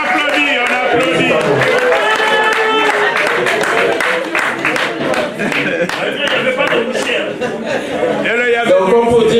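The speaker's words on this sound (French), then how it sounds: "On applaudit." An audience at a couples' gala evening in Le Mans claps steadily in a dense, sustained round of applause, mixed with voices and some chuckling.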